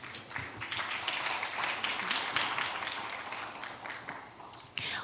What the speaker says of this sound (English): please give him another round of big applause